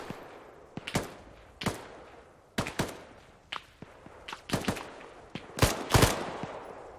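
Video game gunfire from Arma 3 in an AK firefight, with scattered single shots and short bursts, some close and sharp and others farther off, spread across a quiet background.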